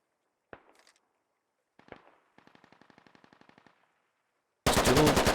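Gunfire in the tactical shooter game Squad: a couple of single shots followed by a rapid automatic burst, all fairly close and crisp, then a sudden loud blast of noise at the end.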